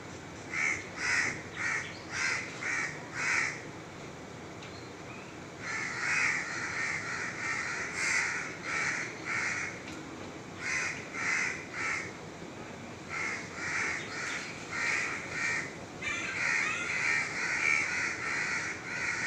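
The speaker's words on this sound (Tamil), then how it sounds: "எல்லா பறவையும் வந்து கத்த ஆரம்பிச்சிருச்சு இப்போ" Several crows caw loudly and nearby in rhythmic volleys of harsh calls, breaking off briefly and then resuming, with no talking over them.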